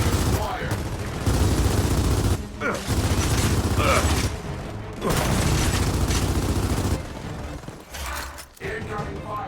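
Dense bursts of automatic gunfire and booming impacts in the shooter game Gears of War 4, loud and close, broken by short pauses, with voices speaking over the shooting.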